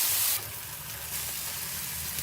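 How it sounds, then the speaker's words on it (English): Bologna frying on a restaurant griddle alongside bacon strips, giving a steady, close broadband sizzle that dips briefly after an initial louder burst and continues evenly without talk. "So he's roasted the bologna, now frying it."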